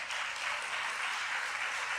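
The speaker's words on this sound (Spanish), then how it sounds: "Denle un aplauso en esta mañana." Congregation clapping in applause during a morning church service, a dense, steady wash of hands throughout, fairly distant and moderate in level with no talking.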